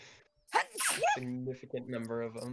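A single sharp sneeze bursts out during a tabletop role-playing session, followed by people talking.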